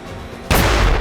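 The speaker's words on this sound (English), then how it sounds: "The first explosion destroyed the bottle." Half a second of quiet, then a single sharp, loud bang as a bottle filled with hydrogen gas explodes in an open area, bursting out suddenly and ringing on briefly.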